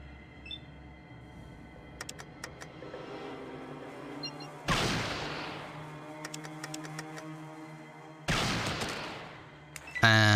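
Gunfire in Fallout 2 combat: quick clusters of sharp clicking shots, then two loud booming blasts that each decay slowly, heard close with no talking.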